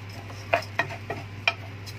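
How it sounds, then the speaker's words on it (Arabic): A spoon stirs fatteh ingredients with a little vinegar in a pan, giving a few sharp scraping clicks over a faint, low sizzle and a steady hum, with no voices. "نقدر نشوح فيه كده حبه حلوين"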